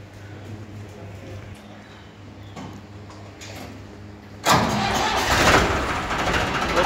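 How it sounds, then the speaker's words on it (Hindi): A steady low idle from an old tractor engine rumbles with light clatter, then a louder burst of broadband roar takes over as the engine revs up and runs harder. "तो आप देख सकते हैं क्या शानदार आवाज़ है बहुत ही प्यारा लग रहा है ट्रैक्टर"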